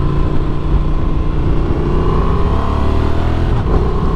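Honda Transalp 750 adventure motorcycle engine under way, with a steady, loud drone that rises gently as it pulls, heard from the rider's position with wind noise and no talk.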